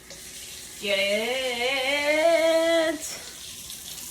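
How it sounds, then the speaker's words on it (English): Hot water runs from a kitchen tap while shrimp fried rice is being prepared, a steady rushing stream that starts abruptly and stops after about two seconds, with a brief spoken word nearby. "hot water going"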